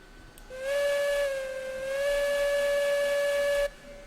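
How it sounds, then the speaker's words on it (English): A steam locomotive whistle in the railroad video game RailRoads Online blows one long, loud, steady tone with a breathy hiss, holding for about three seconds before cutting off sharply. "Pretty standard whistle."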